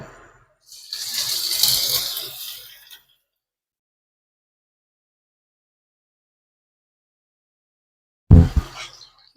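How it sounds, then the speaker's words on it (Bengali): Grated bottle gourd hits hot ghee in a pan with a sizzling hiss lasting about two seconds, then quiet, then a short heavy clunk near the end. "ঘি ভালোভাবে গরম হয়ে গেছে তারপর দিয়ে দেব আমি গ্রেট করে রাখা লাউ"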